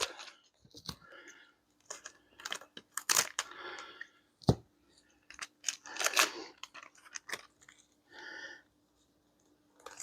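Adhesive tape is pulled off a roll in short, sharp bursts, ripping and tearing in quick irregular pulls, loud and close. A couple of brief isolated snaps are heard, and no one speaks.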